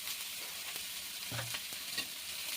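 Spices and masala with chili powder, salt and turmeric fry in a pan for seyal bread, giving a steady close sizzle broken by a few soft stirring scrapes.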